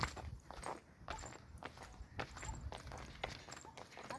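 Buffalo hooves walk past at close range, a steady series of soft clopping steps on the ground with no talking.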